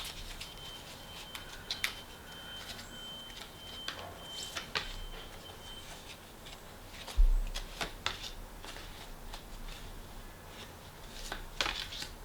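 Tarot cards being shuffled by hand, soft papery riffles and taps in scattered bursts over a quiet room, close and fairly faint, with no talking.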